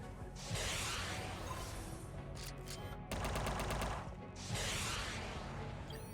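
Rapid machine gun fire in the video game UnMetal, dense bursts of crackling shots with brief pauses between volleys, loud and close under a busy game soundscape.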